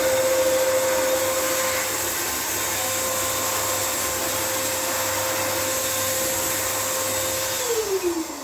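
An air sprayer blows steadily on aerated concrete blocks, clearing dust from cracks and laying on primer, with a loud continuous whooshing hiss and motor whine that slides down in pitch near the end.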